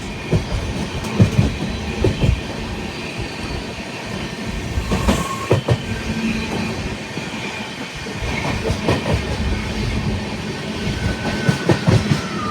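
Passenger train on the Kerala to Delhi run, steady rumble of wagons on rails with rhythmic clickety-clack wheel beats and occasional squeals, heard close throughout with no talk.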